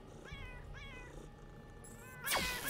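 A video game cat meows several times, with rising harmonic cries early on, over a steady game soundscape, ending in a louder crash or swoosh.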